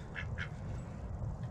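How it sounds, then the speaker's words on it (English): Ducks in a backyard kept alongside chickens give two quick, close quacks near the start and a fainter third call later, over a low background rumble. "Then you got the ducks."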